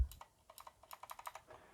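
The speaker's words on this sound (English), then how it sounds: "I installed a clicky key in here" Rapid clicky mechanical switch keypresses on an XD75 ortholinear keyboard, a quick irregular run of sharp close clicks with a brief pause near the end, no voice.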